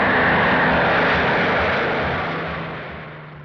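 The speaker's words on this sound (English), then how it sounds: "Harris threw in every bomber he could scrape up for a monumental prestige attack." World War II bombers in flight, their massed aircraft engines producing a loud, steady drone that slowly fades over a few seconds, with no voices.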